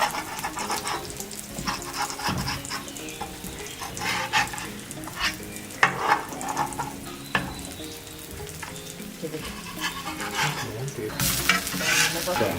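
A shami burger patty for a homemade chicken burger fries in a pan with a steady, close sizzle and crackle, broken by occasional scraping and spatula knocks as it is turned.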